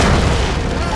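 Cartoon superhero's thunder thump power lands as a loud, heavy boom, a single sustained low-end blast filling the whole second.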